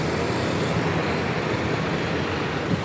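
A Balu Mama Travels bus pulls in on a rainy-season journey to a village, its steady engine rumble blending with continuous road traffic noise, moderately loud and unbroken, with no voices over it.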